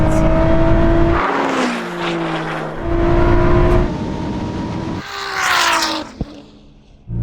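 A Ferrari SF90 and a Nissan GT-R drag racing, with engines revving hard and climbing in pitch through repeated gear shifts, loud and close, then a sharp roar as the cars surge past.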